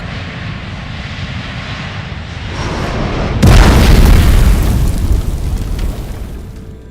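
Germanwings Flight 9525 plane crashing into a mountain slope in the French Alps: a steady, loud aircraft engine drone gives way to a sudden, powerful explosion that rumbles and slowly fades.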